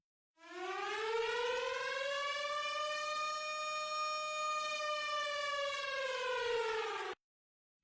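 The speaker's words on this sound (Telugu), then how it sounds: "ఫస్ట్ జరిగేది ఎయిర్ రైడ్ సైరన్స్ మోగుతాయి." An air raid siren winds up into a single long, loud wail, then holds a steady, sustained tone for about seven seconds before cutting off, with no other sounds around it.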